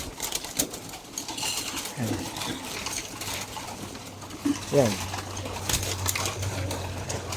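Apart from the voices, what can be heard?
stock pigeons cooing, restless before feeding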